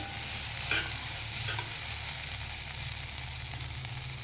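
Potato bhaji being sautéed in a pan for a fasting meal, a steady soft sizzle and fry with a couple of brief scraping stirs near the start, no voices.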